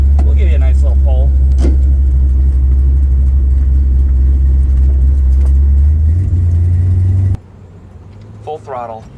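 A Plymouth Barracuda with a 383 big block V8, swapped in for a slant six, pulls away with a loud, deep engine rumble that rises in pitch before cutting off, with talk over it and after.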